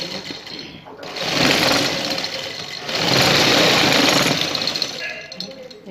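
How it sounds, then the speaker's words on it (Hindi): Sewing machine stitching half belt and half elastic into a shalwar, a steady mechanical whir running in two longer bursts with a short pause between, close and fairly loud. "इस तरीके से हम जो अपनी सिलाई है वो कंप्लीट करेंगे।"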